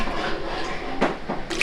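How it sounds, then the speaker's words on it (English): Water is poured into natural dye baths over the dye material, a continuous close splashing gush with a few sharper drips and plops near the end. "I'm going to add enough water over the dye material to cover them"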